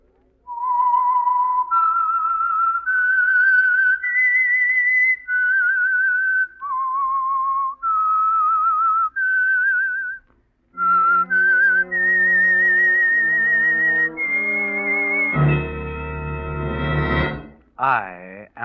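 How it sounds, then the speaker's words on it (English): A clear, loud whistled tune of held notes stepping up and down, the opening signal of the radio drama The Whistler, pausing briefly, then continuing over a swelling orchestral chord at the end. "That whistle is your signal for the Signal Oil Program,"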